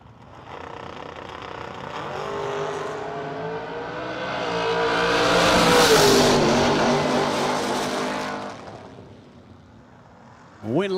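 A Camaro door car launches down a drag strip lane at a memorial drag race, its roar swelling into a loud, harsh peak as it passes close, then fading into the distance.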